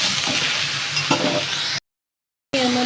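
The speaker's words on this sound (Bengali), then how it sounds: "আর দিয়ে এবার আমি এটাকে ভালো করে আরেকটু ভাজা করে নেব" Catla fish curry with cauliflower and potato fries in a pan, a loud close sizzle with stirring scrapes, cut by a short silent gap before resuming.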